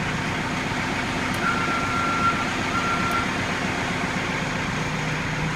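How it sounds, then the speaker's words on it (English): A steady electronic backup beeper on a Cat backhoe, two or three long tones over the loud rumble of its idling heavy engine. "the backup alarm"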